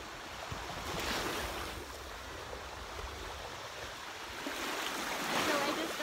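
Ocean waves wash onto a beach on Koh Phangan, Thailand, in a steady broadband roar that swells into louder surges near the start and end, with wind buffeting the microphone.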